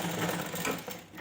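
A sewing machine stitches an umbrella ghagra in a fast, steady mechanical whir, close and moderately quiet, tapering off near the end.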